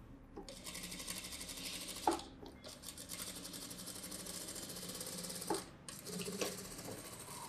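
Sewing machine stitching the neck of a blouse, a steady fast mechanical chatter with two brief pauses and clicks as the fabric is adjusted.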